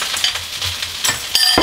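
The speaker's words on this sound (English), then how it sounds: "Okay, just going to break up that egg." Egg being broken up in a frying pan for fried rice, close sizzling with quick scraping and tapping of a utensil, the frying growing louder near the end.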